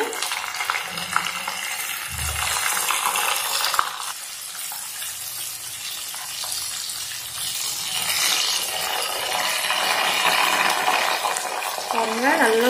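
Beans frying in hot oil for a crunchy fry, a steady broadband sizzle running throughout at moderate loudness, with brief low clatters near the start and some faint voice in the background.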